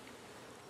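Honey bees buzzing close by during installation of a new hive, a steady, dense insect hum with no break across the short moment.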